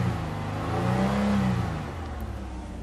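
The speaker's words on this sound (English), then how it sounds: "the engine sounds great even when revved." A 2009 Nissan Murano engine revs up, climbing in pitch and then settling back toward idle, loud and close with a steady mechanical drone and no voices.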